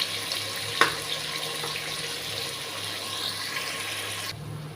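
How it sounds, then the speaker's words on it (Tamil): Sliced onions and green chillies sauté in a pan with an even, continuous sizzling hiss, moderately loud and close, steady throughout with one small clink near the start. "வெங்காயமும் பச்சை மிளகாயும் போட்டுக்கிறோம். கொஞ்சம் வதங்கட்டும்."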